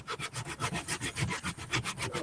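A piece of belt sander rubbed back and forth against an edge in quick, even strokes, a raspy scraping about eight times a second, close and alone.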